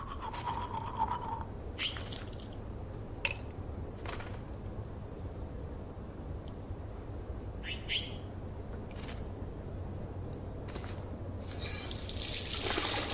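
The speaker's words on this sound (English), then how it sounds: "I need to brush my teeth." Brushing teeth at a bathroom sink in the video game Life Is Strange: soft intermittent scrubbing and brief clicks over a steady low room hum, with a louder rush of water near the end.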